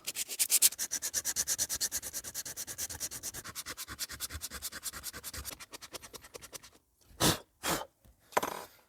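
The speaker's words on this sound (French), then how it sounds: "On va venir poncer pour nettoyer le plan de joint et rattraper les aspérités" Fine-grit abrasive sanding across the gasket face of a Derbi Euro 3 engine during a top-end rebuild: a long run of fast, even back-and-forth rasping strokes, close and steady, then a few separate louder scrubs after a short pause.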